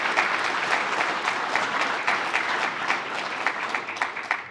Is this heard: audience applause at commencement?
yes